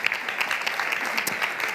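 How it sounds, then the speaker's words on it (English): Warm applause from a conference audience at a European cooperation event, an even wash of many hands clapping steadily through the short stretch without speech. "You may also give her a very warm round of applause."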